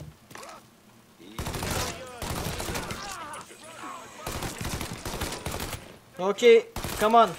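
Rapid bursts of gunfire from the Mafia 3 video game crackle in several loud clusters, close and dense, with someone speaking briefly between volleys.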